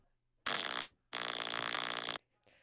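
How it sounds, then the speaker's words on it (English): Two loud, buzzy farts blasted straight into a microphone, a short one followed by a longer sustained one, close and distorted, with quiet gaps around them and no speech. "do you guys ever want to know what it sounds like when I fart into the mic?"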